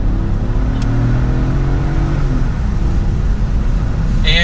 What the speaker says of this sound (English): It's a peppy little engine to get you up and moving